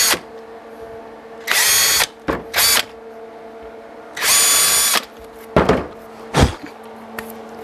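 A power drill runs in several short, loud bursts close up, drilling holes in a flat magnet, with pauses between them and sharp knocks and clicks in the gaps.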